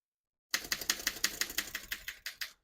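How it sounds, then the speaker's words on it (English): Keys striking on a 1929 Underwood No.3 desktop typewriter, about a dozen crisp, evenly paced clacks close up, with no skips or sticking and no voices. "all the keys type nice and none of them skip or stick"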